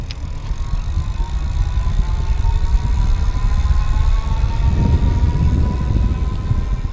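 Blix Stockholm electric bike hub motor pulling up a gentle hill on throttle, a quiet steady whine with faint rising tones over loud continuous wind and road rumble.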